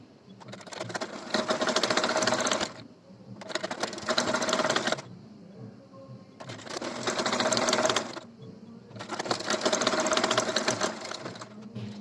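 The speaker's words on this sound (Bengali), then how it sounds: "এখন আমি কালো কাপড়টি উল্টো পাশে ঘুরিয়ে সুন্দরভাবে সেলাই করে নেব।" A sewing machine runs in four strong stitching bursts with short pauses between them while sewing black fabric for a sleeve design, loud and close.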